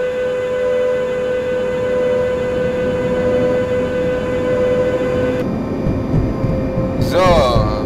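A train runs past in the Train Simulator game on the Berlin–Wittenberg line, a steady rumbling drone with a sustained horn-like tone, ending in a brief rising squeal.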